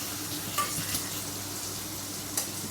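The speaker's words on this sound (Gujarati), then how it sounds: "પાછી વઘાર નાખી" Spices for a tempering crackle in hot oil over a pan of simmering dhokli-style dish, a faint, steady sizzle broken by a few soft clinks.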